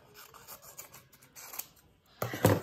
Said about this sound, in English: you should take this white one and cut it into a half